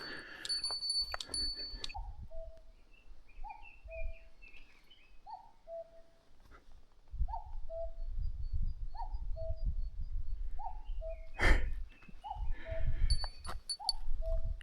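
A cuckoo's two-note call repeats steadily about every second and a half near a mountain summit at Ikuno Ginzan, Japan, clear against wind rumble, with a few other chirps and jingles.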